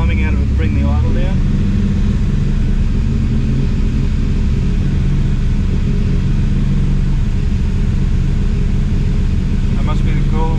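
A car engine idles with its cooling fan running, making a constant loud whirring rumble close by that stays steady throughout, with brief voice-like sounds near the start and the end.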